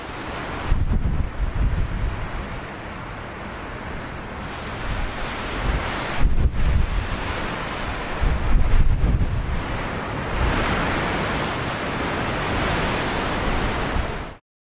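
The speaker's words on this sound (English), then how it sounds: "the wind just keeps getting stronger and stronger." Strong wind gusting at a lakeside campsite in Texas, a loud continuous roar with buffeting against the microphone and surges of rushing noise, no voices.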